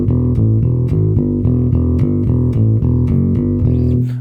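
Electric bass plays a repeating straight-eighth-note riff, steady and prominent with no talking.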